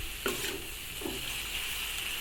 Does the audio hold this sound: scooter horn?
no